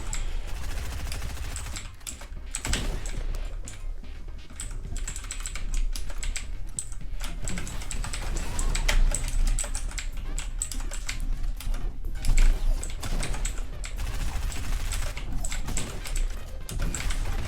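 Rapid, continuous keystrokes clatter on a small computer keyboard during a shooting video game, with gunfire bursts in the game audio running underneath.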